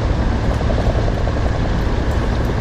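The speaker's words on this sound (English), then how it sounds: "I got chopper sound" A helicopter in the combat flight simulator DCS World gives off a loud, continuous rotor roar with a rapid rhythmic thumping of the blades. The sound stays steady throughout the short stretch.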